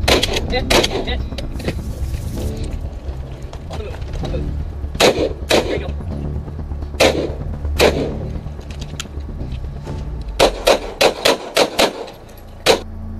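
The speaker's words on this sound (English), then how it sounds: "This is our long range shooting range outside of our base so that we can use our long range rifles our 50 caliber machine guns, our 240 machine guns" Shots ring out at a base shooting range in Afghanistan, where long-range rifles, .50 caliber and 240 machine guns are fired: sharp, spaced reports that bunch into a quick volley near the end over a steady background.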